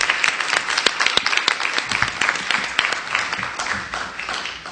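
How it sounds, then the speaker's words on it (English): Audience applause for the moderator at a Kershaw County school board meeting, dense steady clapping from a room full of people, with a few sharper nearby claps standing out over the continuous patter. "How about a round of applause for our moderator"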